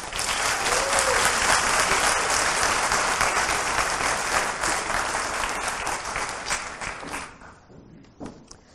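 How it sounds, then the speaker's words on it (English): An audience at a city's State of the City address applauds loudly as officials stand to be recognized. The dense clapping sustains for several seconds, then thins out and fades into a few scattered claps at the end. "Please stand and give them a round of applause."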